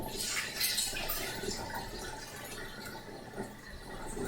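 Cold water runs and splashes steadily into a hot tub, a continuous broadband rush with small drips and gurgles throughout, fairly close.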